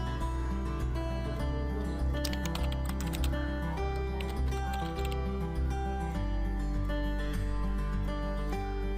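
Keys on a computer keyboard clatter in quick, irregular taps at close range, laid faintly over a constant loud background hum with layered tones that runs the whole time.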